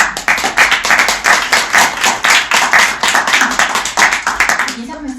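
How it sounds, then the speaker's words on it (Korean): Lively applause from an audience at a political party's founding meeting, many hands clapping in a dense, steady burst that continues for several seconds before fading out. "이의가 없으시다면 전체 박수로 의견하도록 하겠습니다"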